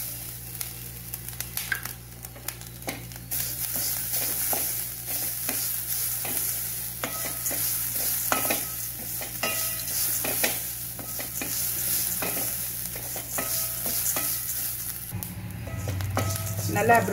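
Coconut fries in a pan for chutney with steady, close sizzling, while a utensil scrapes and taps as it stirs throughout; the sizzle swells and a louder clatter comes near the end.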